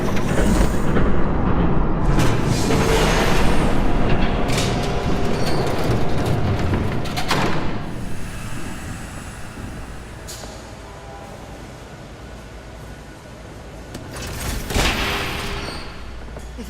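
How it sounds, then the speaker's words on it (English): A train rushes past in Batman: The Telltale Series, a loud, sustained rumble and clatter that fills the scene and slowly eases off, with a brief swell near the end. "There's a train coming."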